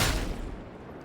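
A combat shotgun headshot blast in Warhammer 40K Darktide, one loud close boom that fades into a rumbling tail.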